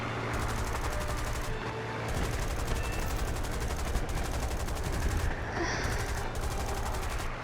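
Rapid aircraft machine-gun fire in the War Thunder air-combat game, a dense continuous rattle over a steady engine drone, with a short break before the bursts resume at constant loudness.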